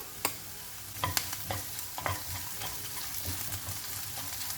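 Chopped green chillies and ginger garlic paste sauté in a pan, a soft sizzle broken by repeated spoon scrapes and clacks against the pan as it is stirred, close and fairly quiet.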